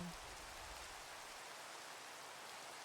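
Rain falls in the Minecraft video game, a steady, even hiss of downpour that holds at a constant level throughout, faint and without any voices.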